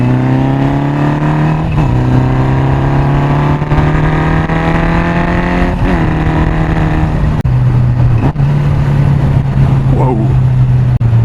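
A Honda 750 Four motorcycle engine drones loudly while being ridden, a steady multi-cylinder hum that rises in pitch through gear changes with brief dips between them, with wind noise and a rider speaking over it.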